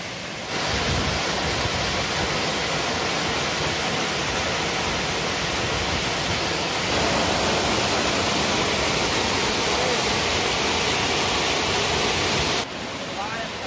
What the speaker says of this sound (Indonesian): Jadi di air terjun Taipei ini ada dua air terjun.